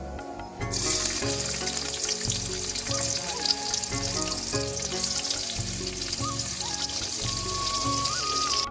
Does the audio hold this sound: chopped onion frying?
yes